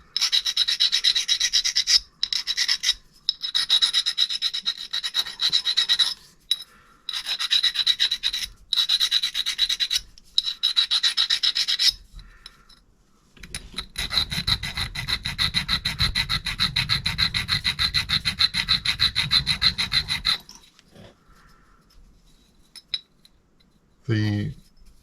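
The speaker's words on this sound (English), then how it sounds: "I'm just going to take a fine stone and remove all those burrs." A fine stone rubs burrs off the hard laser-cut edges of steel plates for a heavy-duty knurling tool kit, making close, repeated rasping strokes in bursts with short pauses, then a longer run of faster scraping.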